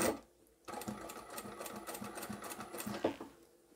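A sewing machine with a size 14 needle stitches fabric for a cutlery roll-up pouch, giving a quick, even run of rhythmic needle clatter after a brief pause, close and clear with no talking.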